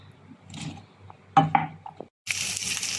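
Okra (bhindi) drops into a hot pan with a clatter of utensil against metal, then bursts into a bright, loud, steady sizzle of frying that follows a brief quiet gap.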